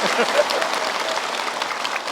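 Audience applause at an Islamic religious talk show, a steady dense wash of clapping filling the whole stretch at moderate loudness.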